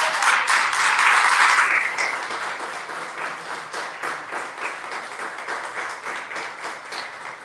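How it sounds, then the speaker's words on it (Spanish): A church congregation applauds during a Sunday-morning sermon, a dense burst of clapping loudest in the first two seconds that then thins into steadier, softer clapping continuing to the end. "¿Cuántos pueden aplaudir al Señor en esta mañana?"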